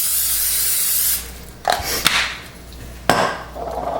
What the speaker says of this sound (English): So go ahead, add a little bit of Pam into the pan.